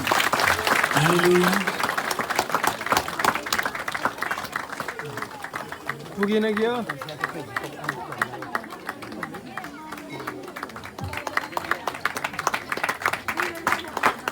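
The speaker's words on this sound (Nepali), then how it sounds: "ताली बजाउनु पर्यो।" Crowd clapping at a Christmas gathering, dense and continuous, with people talking and calling out over it throughout.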